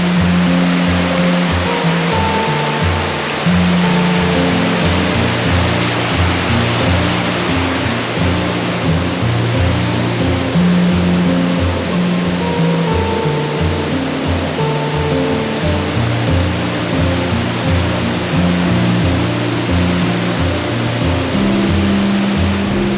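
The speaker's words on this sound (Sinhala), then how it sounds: "සුන්දර අසුපිනි ඇල්ල." Asupini Ella, a waterfall about 30 metres high, roars with a constant broad rush of falling water, loud and unbroken throughout, with no voices.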